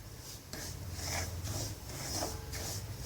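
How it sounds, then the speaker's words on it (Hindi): Semolina is stirred and roasted in ghee in a pan over a medium flame, giving a soft, close rasping scrape that comes in repeated strokes over a low steady hiss. "इसे अच्छे से हम घी के उसमें भून लेंगे ताकि जो सूजी है वो बढ़िया तरह से भून जाए।"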